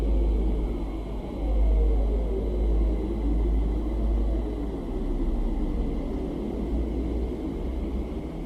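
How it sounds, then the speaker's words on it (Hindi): A deep, continuous low rumble drones throughout, heavy and steady with slow swells in loudness and a faint whooshing layer above it. "पृथ्वी की यह आवाज इसके समुद्र या फिर हलचल वाले वातावरण की वजह से हो सकती है"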